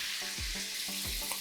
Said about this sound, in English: While the tofu's cooking, I'm placing a non-stick pan.